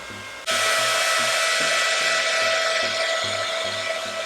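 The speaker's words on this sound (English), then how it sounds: "So I'm going to take my fan and dry." Small handheld fan blowing to dry freshly applied Maybelline Vinyl Ink lipstick, switching on after a brief pause and then running as a steady, close, high whirring hum.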